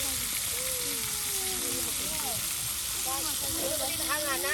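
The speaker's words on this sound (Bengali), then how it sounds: "সুন্দর করে একদম তেলে ভেজে নেওয়া হচ্ছে একদম বেশ ভালো করে কিন্তু ভেজে নেওয়া হবে" Tilapia pieces fry in hot oil for a fish curry made with winter vegetables, giving a constant hissing sizzle while a person talks over it.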